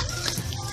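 Warm tap water runs steadily, splashing and gushing as a Beanie Boo plush is wetted under it, heard close and alone for under a second.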